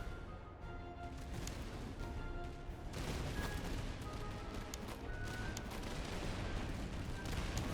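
Swiss troops fire a musket volley in the video game Master of Command: a dense, ragged crackle of many shots that swells after a few seconds into sustained rolling gunfire, distant and unbroken, with no talking.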